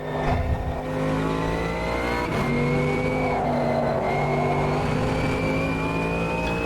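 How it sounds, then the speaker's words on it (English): GT3 race car in Automobilista 2, engine note held at high revs with stuttering, cutting bursts as traction control intervenes, loud and continuous with a brief tire-squeal edge near the start. "I love that TC, the engine kind of cutting in and out with the traction control."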